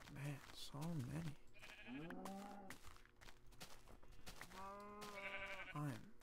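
Blocky video-game sheep bleat several times in a hardcore survival world, their wavering calls coming close and loud, interleaved with someone talking.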